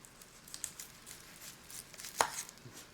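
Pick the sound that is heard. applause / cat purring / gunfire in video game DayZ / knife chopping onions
knife chopping onions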